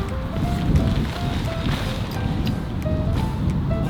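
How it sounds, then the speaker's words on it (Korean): Strong wind buffeting at a campsite during a tarp setup, a dense continuous roar and rumble close to the microphone with faint tonal whistles, steady throughout. "오늘 바람이 굉장히 세게 부네요."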